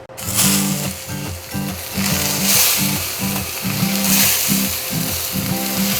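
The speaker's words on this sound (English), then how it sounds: "These are bratwursts that we got from Dr. Feelgoods, and we are gonna cook these up right now. We're gonna brown these" Bratwursts brown in a hot pan, giving a steady close sizzle over a faint repeating tonal background.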